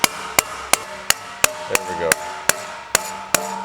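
A hammer taps tubes into place while a Terrateck manual plastic mulch layer is assembled: about ten sharp, evenly spaced metallic knocks, close and loud, with a brief spoken remark among them.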